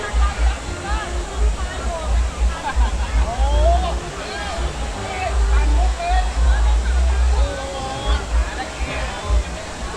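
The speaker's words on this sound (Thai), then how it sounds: "บรรยากาศก็ประมาณนี้นะครับผมน้ำตกวังเนตร" Wang Nen waterfall in Sung Noen, Korat, Thailand, roars with a loud, continuous rush of falling water, with people talking and shouting over the constant wash.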